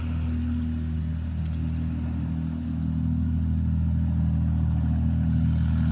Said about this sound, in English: And engines are started and good to go.